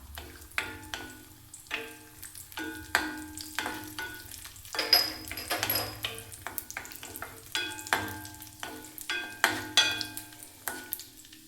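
Raisins frying with cashews in a hot pan, crisp sizzling bursts and repeated stirring clicks in an uneven rhythm, fairly close and moderately quiet.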